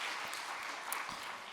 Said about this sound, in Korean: 안 보이지만 박수 한번 하도록 하겠습니다